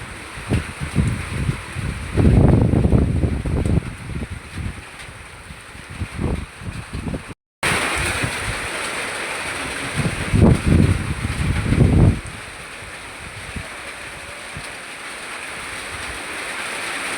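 Strong typhoon wind on Balut Island, Sarangani, roaring in gusts with microphone buffeting, loud surges building and easing, brief dropout midway, no talk.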